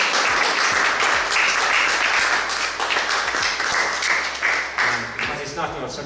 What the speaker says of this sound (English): those volunteers deserve a round of applause